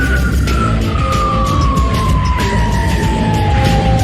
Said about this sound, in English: the officer flips on his siren.